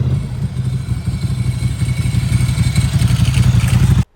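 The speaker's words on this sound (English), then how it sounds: "Both these bikes have a Staintune exhaust system, so we're going to have a little sound off." Ducati and Moto Guzzi motorcycle engines with Staintune exhausts rumble loudly with a steady, throbbing idle close by, then cut off abruptly.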